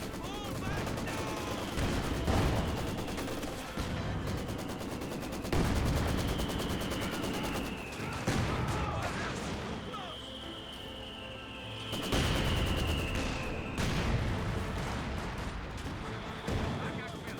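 Obersoldaten gunfire at conscripts in Company of Heroes 2 rattles in sustained, dense volleys with heavy booms mixed in, while a voice talks over the battle.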